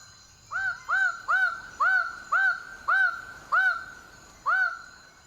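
Lesser bird of paradise males call at their display site at dawn, a close, loud series of about eight harsh, ringing hoots in quick steady rhythm, with no voices.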